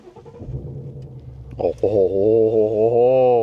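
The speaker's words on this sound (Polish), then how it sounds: "Odpalimy sobie." A 2017 Ford Mustang GT V8 running on LPG cranks and fires up, a brief starter whir followed by a loud rumbling catch that settles into a deep, steady idle close by.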